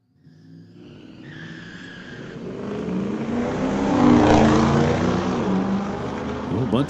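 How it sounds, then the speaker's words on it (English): Junior dragster launching with wheel spin off the starting line at a drag strip, a rising engine whine and tire squeal that swells from quiet to loud and then holds, with an announcer speaking over it. "A bunch of wheel spin off the line."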